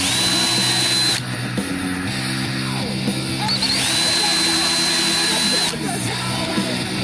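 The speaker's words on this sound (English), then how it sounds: "So I'm gonna start by just drilling holes in the ends of this board." A power drill bores holes into the ends of a wooden board, its motor whining steadily with brief pauses and pitch shifts, loud and close.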